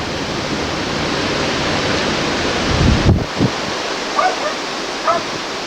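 Floodwater from Hurricane Isabel in 2003 rushes in a broad continuous roar near a house, with a brief louder splash or thump midway and faint voices or barks in the background.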